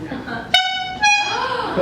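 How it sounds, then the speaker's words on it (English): Two short, bright horn honks in quick succession, loud and close, with faint background noise between them. "So Seth, let's make sure you're able to honk a horn."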